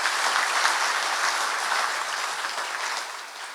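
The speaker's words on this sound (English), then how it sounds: "Please give our Board of Directors a round of applause for their dedication to our industry." Round of applause for the board of directors at a safety excellence awards banquet, many hands clapping in a steady crisp wash that slowly tapers off toward the end.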